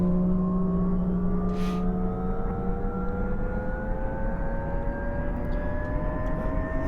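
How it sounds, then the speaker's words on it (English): An OH-6 Cayuse helicopter in DCS World spools up from a start, a steady turbine drone with tones rising continuously throughout, heard alone and close with no talk. "we're just going to start with a routine crank up here of the helicopter before we get things going"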